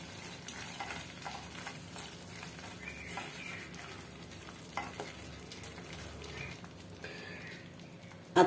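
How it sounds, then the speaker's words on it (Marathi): Faint soft sizzle of masala sautéing in a pan for brinjal masala, with occasional light scraping and stirring clinks and a sharper knock near the end. "आता मसाला चांगला परतून झालेला आहे"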